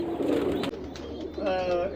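Pigeons coo softly at close range, a low throaty burble with a few brief higher notes as a voice talks over it.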